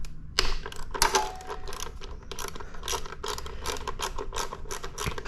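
Ratchet wrench clicking in quick bursts as it backs out 10 mm airbox screws on a Benelli TNT 135 motorcycle, close and fairly loud over a light background hiss, with no talking.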